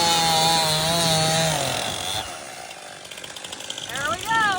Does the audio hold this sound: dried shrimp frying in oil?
no